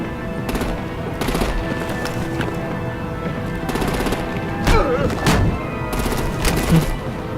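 Bursts of automatic gunfire in Batman: The Enemy Within, as artillery is turned on vehicles: repeated rattling volleys in several clusters over a steady game soundscape, with shouting voices mixed in.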